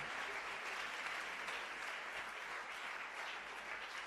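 A church congregation applauds without a break, a dense, even clatter of many hands clapping together that holds steady and moderately loud throughout.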